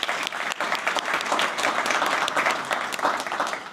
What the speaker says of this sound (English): Wow, can we give Melanie and Google another round of applause?